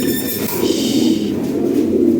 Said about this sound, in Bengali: হাই কোয়ালিটি কবুতর